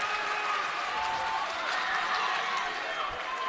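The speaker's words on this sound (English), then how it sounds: "Every single Portage Indian that's on this side of the floor clapping their hands in unison" A high school boys basketball crowd at Portage claps hands in unison in a gym, a dense, steady wash of clapping and crowd noise under an announcer's commentary.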